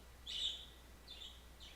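Birds outdoors give a few thin, high chirps, one clearer call followed by two fainter ones, faint and far off against a quiet background.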